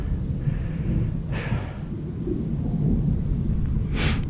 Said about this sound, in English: Pretty good thunderstorm to the north.